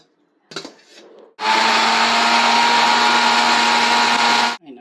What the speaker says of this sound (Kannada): ಇವಾಗ ಮಿಕ್ಸಿಗೆ ಶಿಫ್ಟ್ ಮಾಡ್ಕೊತಾ ಇದ್ದೀನಿ